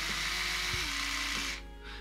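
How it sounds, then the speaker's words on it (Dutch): An Oral-B Pro 2000S electric toothbrush runs with a steady, high buzzing whine that is quiet and continuous, dipping briefly near the end. "En dit is van de nieuwe tandenborstel."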